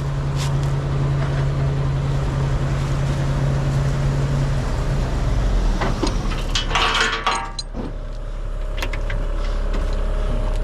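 A 26,000-pound dump truck stuck in mud and jammed in gear runs with a low engine drone and a steady whine, then grinding and clanking bursts midway before the engine settles into a deep rumble.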